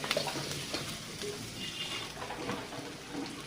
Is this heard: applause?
no